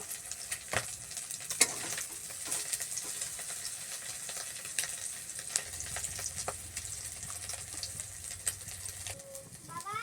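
Bay leaves, panch phoron and whole cumin hitting hot oil in a pan after prawns were fried, giving a steady soft sizzle with occasional clinks and stirring, fairly quiet throughout.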